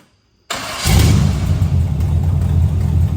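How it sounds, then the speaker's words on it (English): A Jeep CJ7 rock crawler with an exhaust leak cranks and fires up after a brief silence, settling into a loud, close, rumbling idle that continues steadily to the end. "This is the Jeep. It runs. Should we start it?"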